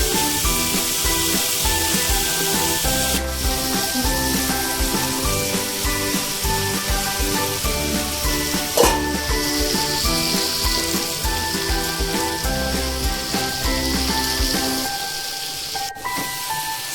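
Potato in a hot pan for a bread cutlet gives a loud, steady sizzle and crackle throughout, close, with a few sharper spits and light clinks and no talk, thinning out near the end.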